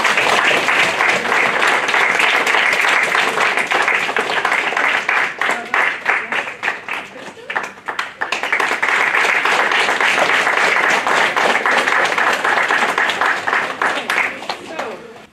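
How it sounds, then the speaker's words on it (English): Sustained applause from an audience at a school assembly as students receive medals, dense clapping that fills the room, dips briefly midway, then swells again. "if you can give them a nice round of applause."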